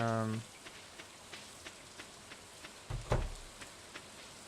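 Soft steady rain patters in a Stardew Valley farm scene, a faint continuous hiss with a few light taps and a brief louder rustle near the end; a short burst of tonal sound opens the clip.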